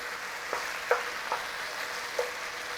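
Beef frying with ginger and garlic in a pan gives a steady, soft sizzling hiss, broken by a few light clicks of stirring utensils against the pan.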